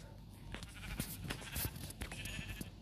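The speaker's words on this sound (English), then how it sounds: "Okay, there's sheep." Sheep bleating in Minecraft, several short bleats scattered across the moment over a busy game soundscape, moderately close and without talk.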